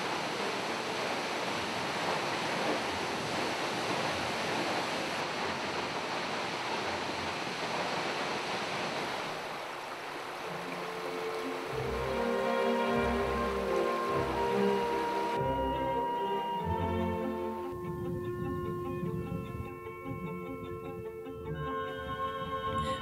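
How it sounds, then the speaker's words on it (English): A steady rush of a waterfall with a drop of just under 100 feet roars continuously, broadband and even, with the tone shifting partway through as the sound thins out. "it's England's highest drop waterfall at just under 100 feet."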